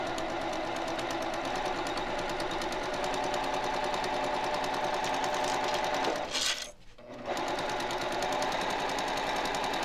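A Janome HD9 straight stitch sewing machine runs loud and continuous while stitching a pillowcase, a fast even mechanical chatter that briefly stops for a pivot at a corner, then resumes.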